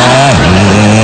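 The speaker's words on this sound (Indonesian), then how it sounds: "Itu namanya knalpot Keniji Pak" A motorcycle fitted with a modified aftermarket exhaust revs loudly up close, its engine note dipping and then holding a steady, harsh drone.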